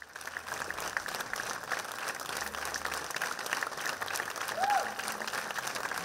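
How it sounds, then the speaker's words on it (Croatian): A theatre audience in Budva gives the Atelje 212 ensemble a long, steady round of applause after a performance, a dense, even wash of clapping that fills the whole stretch. "Predstava koja se u Beogradu igra na kartu više oduševila je i budvansku publiku koja je ansambl Ateljea 212 nagradila višeminutnim aplauzom"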